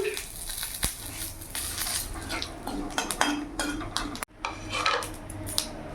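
A bay leaf and whole cumin seeds hit hot oil and crackle in a soft, steady sizzle, overlaid by the clink and scrape of a metal spoon against the pan and a voice speaking throughout.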